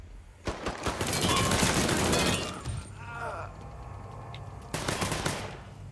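Repeated gunfire in the Mafia III: Definitive Edition video game: dense, loud bursts of automatic shots in the opening seconds, then a quieter stretch and a second sharp burst near the end, with a voice shouting partway through.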